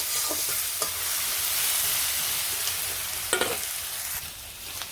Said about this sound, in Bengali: এই আলুটা হালকা ভাজার পরে তারপরে মশলা দিয়ে দিব